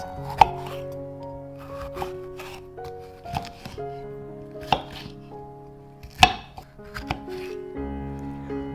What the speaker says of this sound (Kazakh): түрлі түсті светофор перецтерді пайдаланамыз, және оны алдын ала турап, тазалап, содан кейін турайтын боламыз